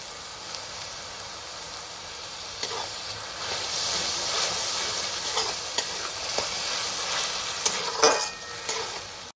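Garlic and green chili paste frying in hot oil, a steady close sizzle with scattered sharp spatters and pops and occasional stirring scrapes, no talk.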